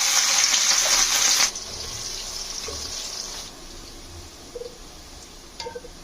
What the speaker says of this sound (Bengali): মশলা ভালোভাবে কষানোর জন্য জল দিলাম